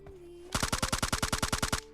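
Rapid automatic gunfire in PUBG Lite, a burst of about fourteen evenly spaced shots over roughly a second and a half, loud and close, following a brief quiet lead-in with a faint steady tone.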